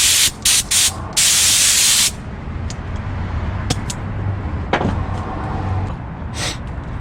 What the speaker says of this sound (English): hook up a blowgun tip, so I can blow off, you know,